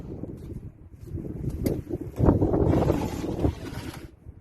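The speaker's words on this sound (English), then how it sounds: "It's a windy day." Wind blowing outdoors on a windy day during roadside car tire work, gusty rumbling buffeting of the microphone that builds and swells in the middle, then eases off.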